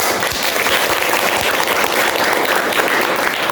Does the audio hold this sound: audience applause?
yes